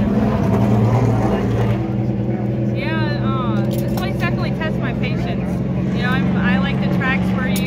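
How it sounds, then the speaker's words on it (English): Ty Gibbs' race car at the Toledo short track, a low engine rumble rolling past in the background while people talk close by over it. "As Ty Gibbs' car rolls behind us."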